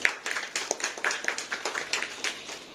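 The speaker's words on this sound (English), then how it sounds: "Give them also a round of applause." Crowd applause at a Gandhi Jayanti event, a steady patter of many hands clapping at moderate volume throughout, with no voices over it.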